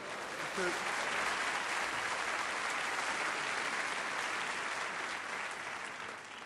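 Steady applause from a comedy show audience, a continuous crowd of clapping hands held at moderate distance and fading slightly toward the end.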